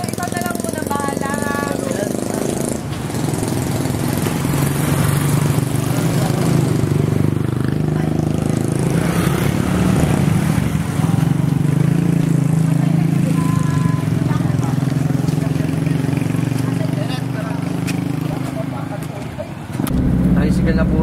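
A motor tricycle built all in stainless steel idles with a loud, steady, knocking engine drone close by for the whole stretch, with people talking over it.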